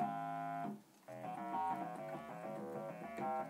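A Roland D-50 synthesizer sounds sustained harmonic notes and chords while an LFO sweeps the filter cutoff, with cutoff set to 60 and resonance to 30. A brief gap comes before the filtered tones pulse on steadily at moderate volume.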